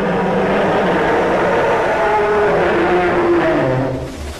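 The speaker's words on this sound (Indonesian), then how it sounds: "dari sini kita mendengar suara monster train eater ya" The monster Train Eater train in the GTA video game, a loud sustained rumbling roar with droning tonal whines that shift in pitch, then easing slightly toward the end.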